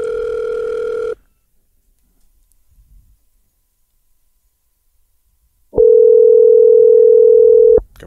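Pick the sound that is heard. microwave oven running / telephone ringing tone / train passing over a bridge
telephone ringing tone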